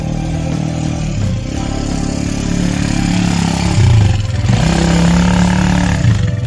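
A red off-road buggy engine drones loudly and steadily during an outdoor ride, its pitch rising and falling with a couple of revs and a clattering mechanical edge.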